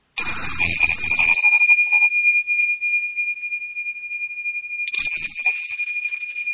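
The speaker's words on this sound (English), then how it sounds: "And there is the sound of a bell that has become the signal" A classroom bell used as a signal to pause and breathe is struck twice, each ring loud and clear with a long, steady metallic tone that slowly fades, the second strike coming after about four seconds.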